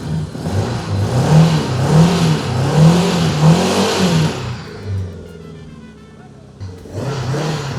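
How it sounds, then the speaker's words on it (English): A Honda Goldwing motorcycle engine, which is smoking, is revved in several rising and falling bursts, loud and close, then drops back to idle before picking up again, with people talking over it. "Maybe give her some revs, see if maybe that smoke clears up."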